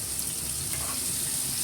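Bilimbi fruit frying in a pan while being stirred, a steady close hiss of sizzling oil running evenly throughout with no voices.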